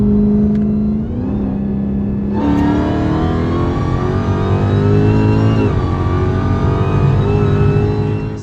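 A Dodge Hellcat's engine revs loudly and continuously, its supercharger whine rising in pitch over a deep rumble, with a couple of step-ups in revs and no talking.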